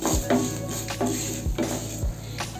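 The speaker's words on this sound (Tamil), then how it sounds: "மிதமான சூட்டில் இதை நல்லா வறுத்து எடுத்துக்கணும்" Black urad dal roasts in a pan over medium heat, stirred with a utensil that makes repeated rhythmic scraping strokes and light clinks over a faint dry sizzle.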